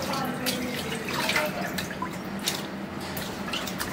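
Anchovies are rinsed by hand in a bowl of water, giving soft splashes, drips and trickles against a low background.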